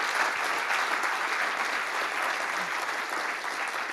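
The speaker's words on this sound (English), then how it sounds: "Can everyone please give a big round of applause to David?" Steady, dense applause from an audience at a technical talk on conversational AI built with Python and deep learning, a sustained clapping wash lasting the whole stretch with no voices over it.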